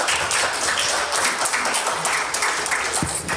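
An audience applauds at the launch of Grace Nzioka's book Poise, a dense, steady patter of many hands clapping together that fills the room and holds evenly for a few seconds.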